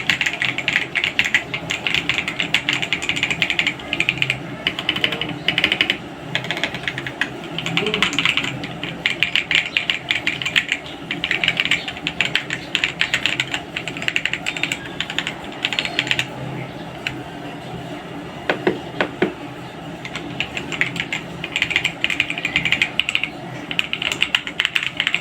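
Fast, continuous typing on an Ajazz AK820 mechanical keyboard with red switches and a gasket mount, a dense stream of soft, muted key clacks up close for about 25 seconds with no one talking.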